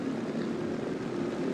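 Steady, loud propeller aircraft engine drone in War Thunder as a plane throttles up on the runway for a drag race, holding an even, continuous roar with no voices over it.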